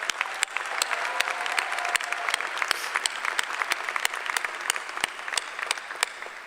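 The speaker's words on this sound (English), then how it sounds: "Let's give all of our faculty and staff a big thank you applause." Enthusiastic crowd applause for faculty and staff at a commencement ceremony, dense steady clapping from a large audience with sharp individual claps standing out near the front, sustained throughout.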